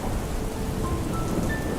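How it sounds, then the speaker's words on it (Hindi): Heavy rain pouring steadily at night in a village, a dense continuous hiss of downpour with no break, loud and close. "इतना कहते ही बारिश और तेज होने लगी।"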